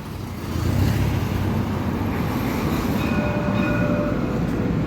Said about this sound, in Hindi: This is the Dubai tram.